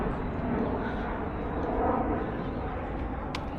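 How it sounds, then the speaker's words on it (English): An airplane flying overhead at Kew Gardens in London in winter, a continuous broad rumbling roar that stays steady throughout the short stretch. "And sorry for the plane again"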